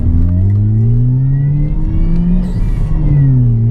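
Supercharged Ford Ka engine revving and accelerating up a hill on a street, a loud, steady close engine drone with rising and falling pitch throughout, plus a brief hiss partway through.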